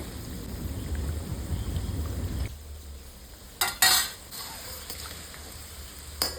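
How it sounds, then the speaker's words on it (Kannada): Moong dal frying in hot oil on a low flame, a steady soft sizzle and bubbling hiss with faint stirring clinks of utensils and a brief louder scrape partway through. "ಒಂದು ಎಣ್ಣೆ ಬಿಸಿಗೆ ಇಟ್ಕೊಂಡು ಬಿಸಿ ಆದಮೇಲೆ ಅದಕ್ಕೆ ಹಾಕ್ಕೊಂಡು ಲೋ ಫ್ಲೇಮಲ್ಲಿ ಫ್ರೈ ಮಾಡ್ಕೊಳ್ಳಿ"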